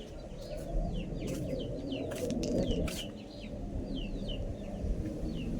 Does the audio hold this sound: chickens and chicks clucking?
yes